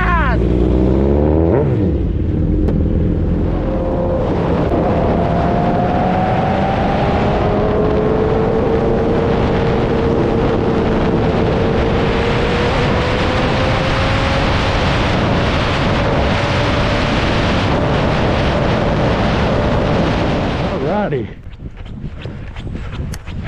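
Motorcycles riding as a group, a loud continuous engine roar with gear-shift pitch changes and strong wind buffeting, dropping away near the end; a voice is heard over it.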